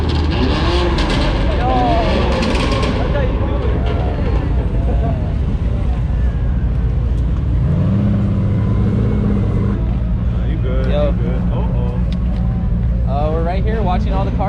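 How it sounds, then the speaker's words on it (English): Cars pulling out of a driveway as a high-end car meet breaks up, engines rumbling and revving at moderate distance, with a loud vehicle rising from about eight seconds and people talking over it throughout. "watching all the cars leave."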